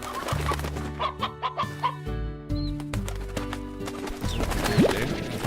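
Hens clucking in the video game Slime Rancher, short bursts of clucks and flapping over a busy game soundscape with music-like tones, moderately loud and close.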